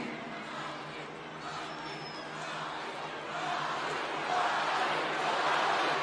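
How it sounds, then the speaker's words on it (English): A wrestling arena crowd roars for The Rock, a broad, continuous wash of cheering that swells louder toward the end, steady and distant with no clear individual voices. "The crowd cheering for The Rock coming alive."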